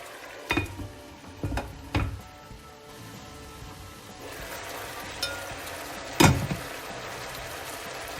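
Green peppers and pork, seasoned with sweet bean sauce, braise in a covered wok with a soft, steady sizzle and bubbling, broken by a few clanks of the metal lid and utensils.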